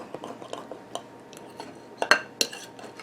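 A knife cutting through a broccoli, ham, mozzarella and mushroom roll-up cooked in a Hot Logic: sparse light scrapes and clicks of metal against a plate, with a few sharper clinks toward the end, close and quiet.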